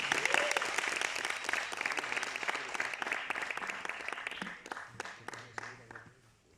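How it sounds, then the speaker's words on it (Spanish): An audience at a juggling training exhibition claps loudly for a performer, dense applause that thins into scattered individual claps and fades out, with a brief whoop near the start. "Fuerte el aplauso para Cissé"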